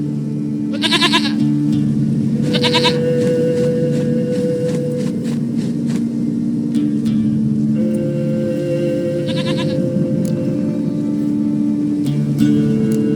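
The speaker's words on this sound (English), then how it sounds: "Goat of mine, dearest, sweetest goat." Goat in the video game The Witcher 3 bleating in a few short wavering bursts over a loud, steady droning game ambience and music bed, the bleats fairly close and clear.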